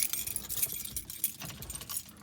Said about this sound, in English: Got a lot of keys in here.